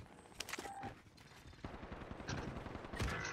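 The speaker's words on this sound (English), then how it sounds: "I'm getting shot from behind." Rapid bursts of gunfire crackle through a Call of Duty: Warzone match, with scattered shots and short automatic volleys layered over one another, close and somewhat muffled, with no talk.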